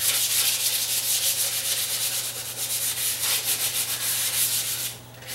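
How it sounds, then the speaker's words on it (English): Sandpaper rubs back and forth over the tight areas of a table being refurbished, a steady close scratching with quick repeated strokes that fades near the end. "You kind of got to get the sandpaper in there."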